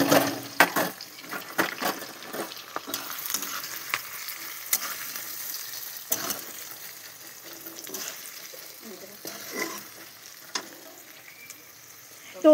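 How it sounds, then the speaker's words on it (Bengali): Onions frying in a hot wok while being stirred, crackling sizzle punctuated by scraping stir strokes and clinks, close and moderately loud. "প্রথমে কড়াইতে পেঁয়াজ দিয়ে দিচ্ছি"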